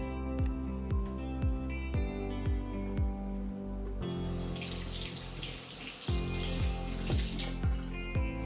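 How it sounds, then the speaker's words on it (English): Water running from a tap into a sink while hands are washed, a steady splashing stream growing louder midway, close, accompanied by rhythmic background music beats. "Wash your hands."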